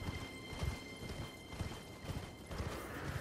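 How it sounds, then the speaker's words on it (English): Horse hooves clip-clop at a steady trot in Elden Ring, a repeating rhythm of soft thuds over a constant hissing game ambience, with no talk. "Get off the stupid horse."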